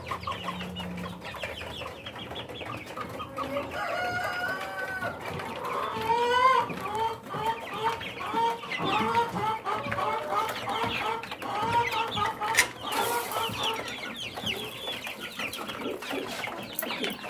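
Rhode Island Red chicks about six weeks old cluck and peep together on a farm, a steady, busy chorus of soft calls that rises and falls, close by.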